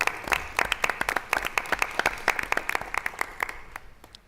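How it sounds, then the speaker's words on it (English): Audience claps for parents during a school board meeting honoring student athletes; sharp individual claps stand out from a thinner, steady round of applause that gradually tapers off over about four seconds. "please, big round of applause for your parents."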